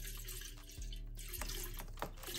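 Distilled water pours into an autoclave pot for sterilising tattoo gear, a short, close splashing and trickling with a few drip-like bursts.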